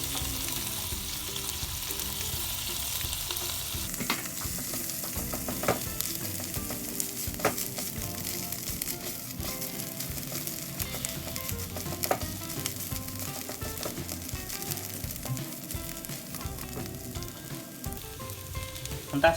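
Spinach for saag bhaji, BIR style, fries with spices in a pan as a continuous close sizzle, with scattered clicks and scrapes from stirring throughout.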